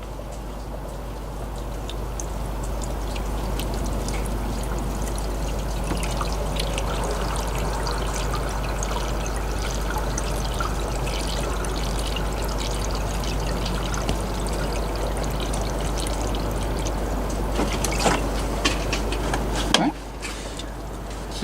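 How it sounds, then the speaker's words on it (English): Diesel fuel poured from a container into a new semi truck water filter, a steady liquid trickle and splash with a continuous low hum underneath, lasting about twenty seconds. "Let me get some more fuel, pour it in there."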